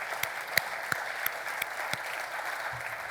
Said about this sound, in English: I want to have a warm applause for the entire staff of the Dock Street Theater